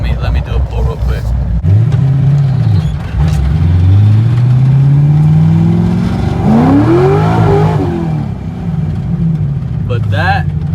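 A car fitted with an aftermarket twin-disc iron-plate clutch accelerates hard through the gears, the engine climbing in long rising pulls with a brief drop at each shift, loud and close before fading slightly at the end.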